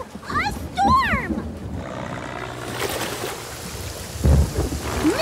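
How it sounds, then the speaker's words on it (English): An animated pirate adventure's storm: thunder rumbles and rain pours, loud and close, with cartoon whooshing effects and brief voices over the downpour. "Oh no! A storm!"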